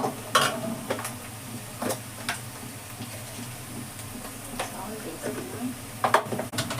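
Onions fry in a pan for a prawn and gongura curry, a steady low sizzle broken by sharp clicks and taps of a spoon stirring against the pan, close by.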